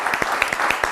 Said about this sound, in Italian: facciamo l'applauso di nuovo a lui